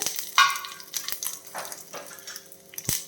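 About five dried red chillies sizzle and crackle in hot oil in a pan while tempering for beetroot curd rice, with intermittent stirring scrapes and short bursts of frying, close and fairly quiet.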